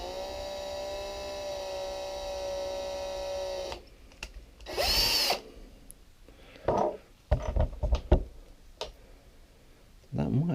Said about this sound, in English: back with another drill bit. Let's give it a go, see if we can open it up